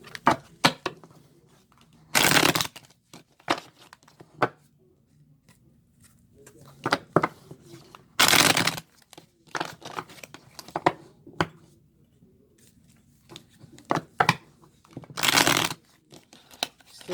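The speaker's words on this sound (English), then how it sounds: "I want to give a little shuffle in front of you guys." Tarot cards shuffled by hand in three brisk riffling bursts, separated by softer taps and handling noises, close up.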